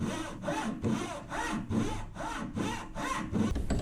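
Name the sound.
Japanese dozuki hand saw cutting hardwood chair leg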